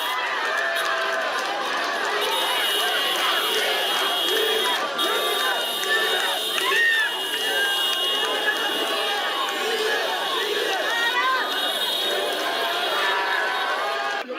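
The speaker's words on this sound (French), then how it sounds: "La foule est en liesse." Jubilant crowd in Bobo Dioulasso welcoming Captain Ibrahim Traoré, a dense continuous roar of overlapping cheers, shouts and chatter, loud and steady throughout.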